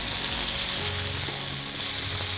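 Minute steak sizzles steadily in a hot pan, a dense, continuous frying hiss close up with no one talking.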